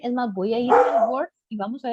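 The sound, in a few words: dog barking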